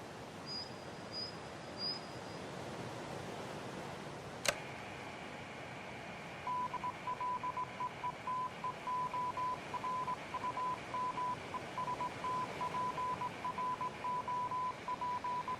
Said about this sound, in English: A Morse code will begin to play.